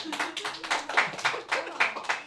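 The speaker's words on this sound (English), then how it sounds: "And if you think Party Pat did the best, clap." Small audience clapping to vote, a short burst of loose, distinct handclaps in an uneven rhythm, close and moderately loud.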